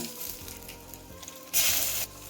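Cut dried red chillies drop into hot oil for a green amaranth stir-fry, a low crackle swelling into a sudden loud burst of sizzling that settles back after half a second.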